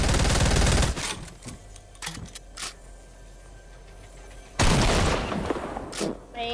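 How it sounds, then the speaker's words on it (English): Loud shotgun blasts from Fortnite gameplay, with a heavy burst at the start and another after a stretch of quieter clatter and crackle, each boom dense and close. "This shotgun's horrible."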